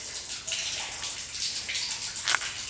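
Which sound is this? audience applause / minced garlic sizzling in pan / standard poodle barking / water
water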